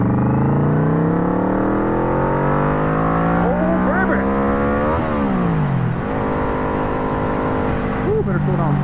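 A Vmax motorcycle accelerates hard through the gears, its engine note climbing steadily in pitch, dipping at a shift, then pulling again, loud and close with rushing wind.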